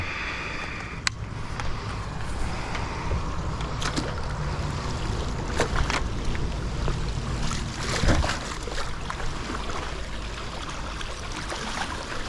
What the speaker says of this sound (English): So let's do a little brushing.